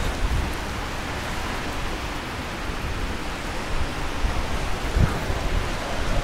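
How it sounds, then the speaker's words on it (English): Heavy, wind-driven rain pours down on a Sydney city street, a dense, steady broadband hiss that stays loud and unbroken throughout, with no voices. "the bloody rain's going horizontal now"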